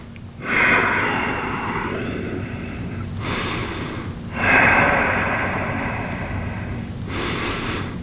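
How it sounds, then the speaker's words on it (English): Slow, deep breaths during a yoga session for the front of the hips and lower back, two long airy inhales each followed by a softer, longer exhale, close and clear with no talk. "Take a couple of breaths."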